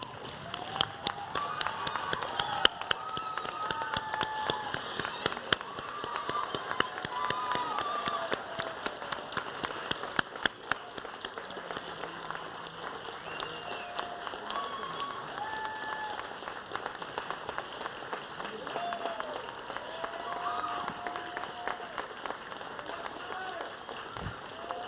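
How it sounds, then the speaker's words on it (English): An audience at an academic awards ceremony applauds, with steady, dense clapping filling the room throughout and some voices in the background. "face the audience for one final round of applause"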